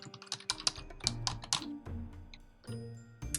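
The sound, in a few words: typing username and password on computer keyboard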